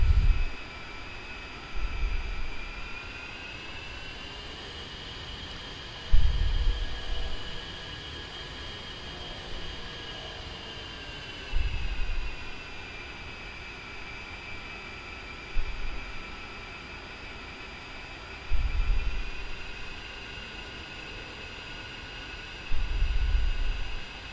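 Fixed-wing aircraft in a flight video game taxiing out for takeoff, a steady droning engine whine holding nearly constant pitch, with soft periodic thumps every few seconds underneath, no talking.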